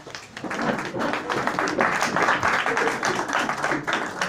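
Applause from a standing audience at an all-India seminar on Bhagat, Sangeet and Nautanki folk theatre, steady dense clapping sustained at even loudness throughout, with faint murmuring mixed in.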